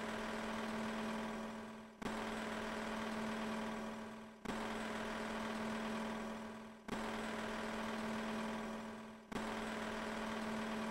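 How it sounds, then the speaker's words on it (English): A linear friction welding machine scouring and pressing metal parts together gives a steady, droning mechanical hum with a firm low tone, cut off abruptly every couple of seconds and restarting at full level. "This is called linear friction welding."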